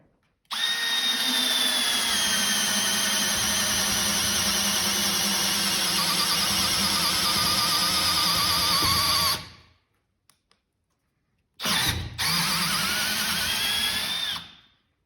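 A Milwaukee M12 installation driver bores steadily into knot-free wood at low speed, a loud, sustained whine held for about nine seconds, then a brief pause before a second shorter run.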